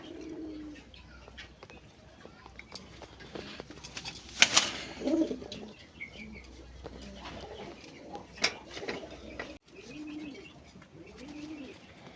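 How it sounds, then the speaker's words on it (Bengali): A large tiger grizzle pigeon coos in several rounded, rolling calls close by, separated by short pauses, with a few faint chirps and no talking. "বন্ধুরা এখানে একটা গ্রিজেল কবুতর আছে, টাইগার গ্রিজেল।"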